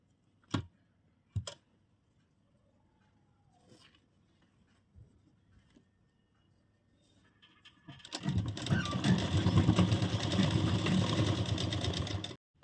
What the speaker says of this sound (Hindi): अब इसको हम उल्टा करेंगे और इसका जो फाइनल सिलाई है ना अब हम वो लगाने वाले हैं।